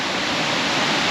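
The Arklet Water pours over a series of waterfalls down into Loch Lomond, a dense, steady roar of rushing water filling the whole moment without any voices.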